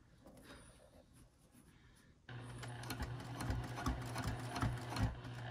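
A sewing machine top-stitches in the ditch of a seam on a small zippered coin and card pouch. It is quiet at first, then starts abruptly partway through into a steady, close, rapid mechanical whir of needle strokes that continues to the end.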